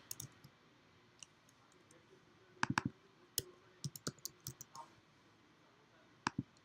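Computer mouse buttons click on a desk, in scattered single and double clicks with short pauses between them, close and crisp in an otherwise quiet room.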